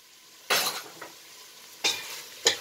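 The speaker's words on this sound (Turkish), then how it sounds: "Yine şöyle karıştırıyoruz." Kavurma meat with black pepper is stirred in a pan, heard as three sharp scraping, sizzling bursts of a spoon against the pan, spaced by quieter gaps with a low simmer underneath.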